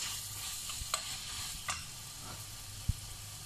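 Tomato paste and seasoning stirred in a pan with chicken, a soft sizzle underneath and a few sharp utensil scrapes and taps against the pan.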